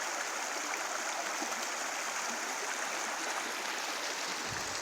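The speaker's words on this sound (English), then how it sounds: "This is the Methow River." The Methow River rushes past in a steady, dense roar of flowing water, heard close and continuous throughout with no voices.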